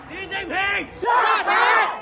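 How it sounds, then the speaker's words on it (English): A protest crowd in Shanghai chants in unison against lockdowns, with two loud, rhythmic shouted phrases rising and falling close by. "they chanted in Shanghai"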